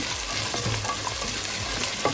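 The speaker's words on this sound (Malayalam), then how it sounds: "ഇതെല്ലാം കൂടെ ചേർത്തിട്ട് നന്നായിട്ടൊന്ന് വഴറ്റിയെടുക്കാം" Onions and spices sauté in a pan for mutton pulao, a close, crackling sizzle broken by scraping strokes of a spatula stirring them around.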